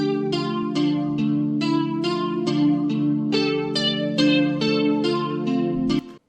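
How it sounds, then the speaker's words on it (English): Plucked guitar melody built in FL Studio for a beat, a steady run of bright picked notes over a sustained low bed, playing alone without any talk until it cuts off. "We're going to start with this guitar."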